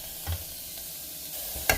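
Onions cook in a dry pan with only salt and no oil, making a soft, low sizzle broken by a few short scraping stirs, the sharpest one near the end.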